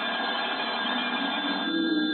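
An old-fashioned telephone bell rings steadily in an old time radio drama, a continuous metallic trill lasting about two seconds, with a faint voice at the very end.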